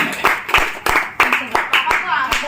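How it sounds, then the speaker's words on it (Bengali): Audience at a Saraswati Puja gathering clapping in short, uneven bursts, close by, mixed with talk and voices. "হাততালি হাততালি।"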